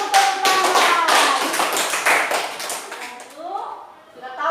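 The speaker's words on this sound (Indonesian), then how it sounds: "Tepuk tangan." Students in a classroom clap together in a short burst of applause, close and loud, fading after about three seconds while voices continue.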